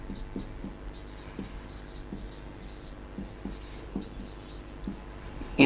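Chalk or marker writing math on a board: soft, irregular scratches and taps at close range, continuing steadily with no speech.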